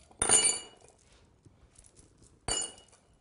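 Metal rings are taken off and set down in a kitchen, giving two bright, sharp clinks about two seconds apart with faint small taps between them, close and otherwise quiet.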